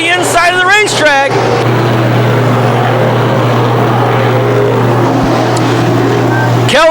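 Sportsman race cars accelerate on the green flag at Can-Am Speedway, a loud, dense engine roar that holds steady throughout, with a commentator's voice briefly over it at the start.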